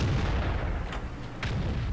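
In a tank video game, a gun firing HEAT rounds lands as a single deep, rumbling boom with low-end weight, followed by fainter distant crackles.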